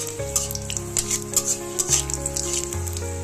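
Panch phoron spices and reddened chillies frying in hot oil for a taro stolon (kochur loti) dish, heard as faint, scattered crackles and pops beneath steady tonal background music.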